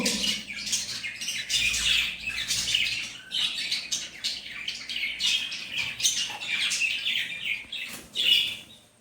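Dense, continuous high-pitched squawking and chirping from two young chicks close by whose eyes have just opened, overlapping calls with no pauses.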